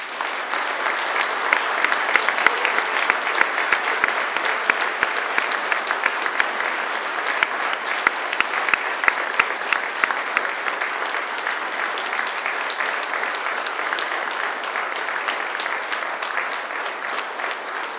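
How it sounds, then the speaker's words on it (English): A large graduation crowd claps steadily and loudly for a long stretch, dense continuous applause filling the hall without letting up. "I would now like you to give them the mightiest of applause."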